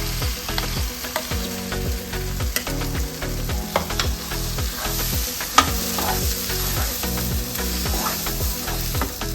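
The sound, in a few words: tomato and chickpea gravy sizzling in a pan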